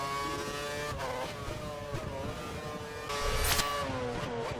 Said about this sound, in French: de retour avec la Williams, qui se loupe encore à Roggia et qui fait les affaires de Maxi